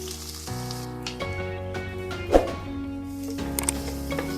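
Chopped green chilli and a small piece of ginger drop into hot cooking oil, giving a steady close sizzle with a brief sharp crackle partway through.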